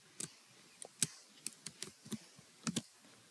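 A run of quick, light keystrokes on a computer keyboard while entering a custom number format in an Excel spreadsheet, with irregular clusters of soft clicks that sound close and quiet.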